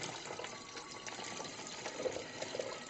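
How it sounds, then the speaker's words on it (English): Hot water sloshes and splashes out of a cooking pot of farm-fresh hard-boiled eggs as it is tipped over a sink, a steady close pour with a few brief clinks near the end, no talking. "dump out as much hot water without spilling the eggs or getting them"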